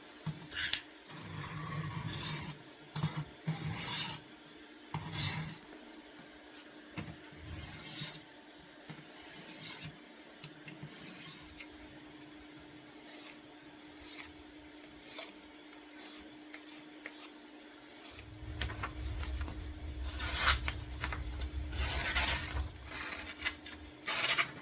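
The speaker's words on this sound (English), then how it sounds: "So now we have to sharpen, clean up the point here." Old Ulster knife blade being sharpened, repeated raspy scraping strokes in short irregular bursts, with a denser, heavier grinding passage near the end, close and quiet.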